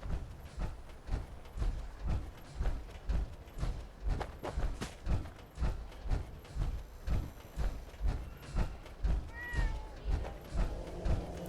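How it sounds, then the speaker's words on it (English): In Fallout 4's Far Harbor, a cat gives a single short meow near the end, heard over steady rhythmic footsteps. "Kitty."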